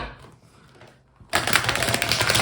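A tarot card deck is shuffled by hand, a sudden loud burst of rapid papery riffling that starts after a quiet stretch and carries on densely to the end.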